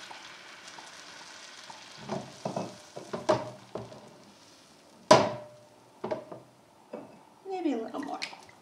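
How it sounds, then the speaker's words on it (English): White wine, Pinot Grigio, poured onto garlic in a hot pan sizzles and spatters in short bursts with stirring knocks and one sharp clatter, close, with a voice talking between. "So I'm going to add about a cup of white wine"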